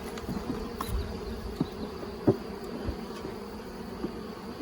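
Honeybees buzz steadily in a nuc hive during an inspection, a close, continuous low drone with a few brief handling knocks and clicks.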